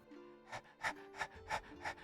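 A voice imitates a wolf panting: five breathy, evenly spaced pants, close and fairly soft, with a faint low hum underneath.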